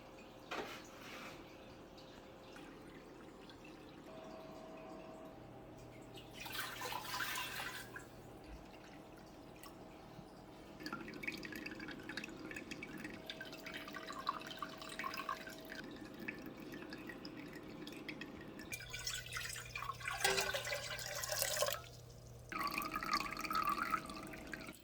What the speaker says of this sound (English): we're just gonna start slowly pouring our ocean water through that